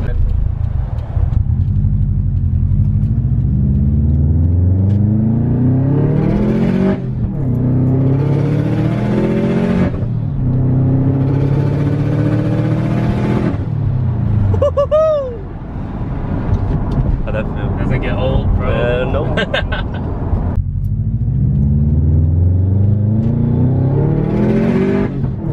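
A Subaru WRX/STi engine with a Tomei Expreme titanium exhaust revving repeatedly, climbing in pitch and dropping back in loud bursts with exhaust roar, and people talking between revs.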